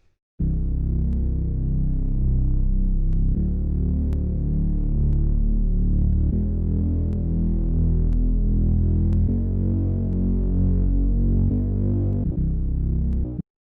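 A deep synthetic bass tone repeats in a steady loop, each note restarting at regular intervals, droning and continuous with no other sounds.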